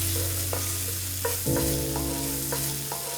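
Garlic frying in oil in a dark pan, a steady close sizzle punctuated by a few scraping stirs of a utensil, no voices.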